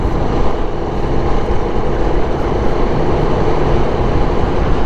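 A 2021 Aprilia Tuono V4 Factory motorcycle engine runs with a loud, steady, dense roar that holds without pauses.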